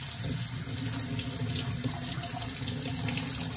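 Tap water runs steadily into a kitchen sink while frozen shrimp are washed, a continuous close splashing hiss with no talking.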